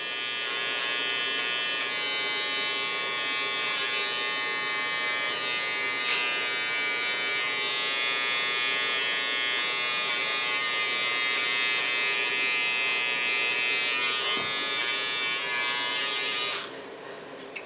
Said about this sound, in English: This clipper is a real nice clipper of T.K.S.